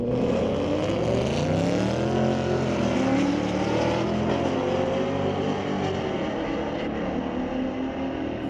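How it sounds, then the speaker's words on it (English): Ford Mustang drag racing a Camaro at Mission Raceway Park's street legal drags, a loud engine roar climbing through gears with rising and falling pitch sweeps, sustained and fairly close, no voices. "Nice sounding Mustang."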